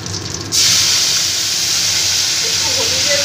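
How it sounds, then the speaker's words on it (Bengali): Water splashes into a hot pan of spiced poppy seeds, and a sudden loud steamy hiss bursts out and holds steady, close and unbroken. "এবার আমি একটু এর মধ্যে জল দিয়ে দেব"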